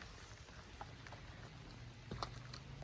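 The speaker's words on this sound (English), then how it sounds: "It's raining." Faint rain falling outdoors in Alaska, soft steady patter with a few scattered louder drops, quiet and without voices.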